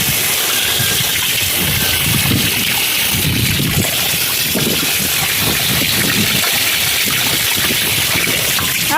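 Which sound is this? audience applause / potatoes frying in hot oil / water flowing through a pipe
water flowing through a pipe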